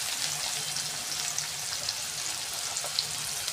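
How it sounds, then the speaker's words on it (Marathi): Onion fries in oil with cumin and asafoetida in a kadhai, a soft, even sizzle with occasional small pops, close but fairly quiet and uninterrupted. "तेलामध्ये कांदा घातलेला आहे."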